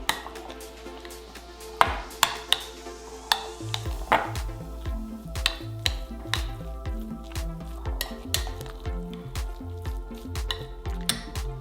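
A utensil scrapes and clacks against a bowl while stirring spaghetti squash with pizza sauce, a steady series of soft knocks and scrapes repeating close by with a low hum behind.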